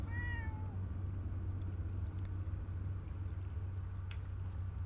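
A single cat meows near the start in Fallout 76, a short rising-falling call over a steady low background hum, then the game ambience continues alone.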